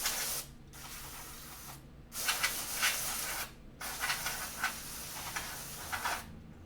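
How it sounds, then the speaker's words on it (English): CRC spray cleaner blasted onto an EVGA Kingpin 2080 Ti graphics card in three long, close hissing bursts separated by short pauses, over a faint low hum. "Spray the hell out of it."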